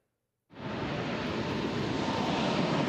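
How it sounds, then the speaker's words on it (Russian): A Su-34 multirole fighter-bomber jet on a combat sortie roars in abruptly after a moment of silence, a loud, sustained broadband engine rush that holds steady and close to the end. "Многофункциональный истребитель-бомбардировщик Су-34. Очередной боевой вылет."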